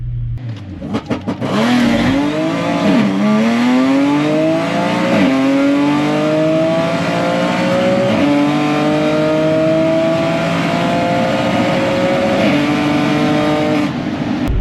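Tuned 2012 Audi S4 launching down a drag strip at a 7,350 RPM limit, loud engine rising in pitch through several gear shifts, each upshift dropping the note before it climbs again, close and continuous.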